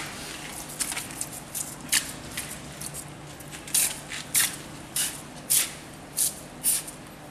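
A hand sprayer squirts water onto a screen printing stencil during sun exposure developing, giving a series of short, sharp hissing bursts roughly every half second, loud and close, after a stretch of quieter scattered spritzes.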